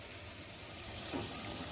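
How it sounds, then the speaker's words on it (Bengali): Watery boiled lentils for dal fry are poured into a hot pan, giving a brief, continuous splashing hiss of liquid at moderate loudness. "ঢেলে দেবো এবারে সেদ্ধ করে রাখা ডালটা।"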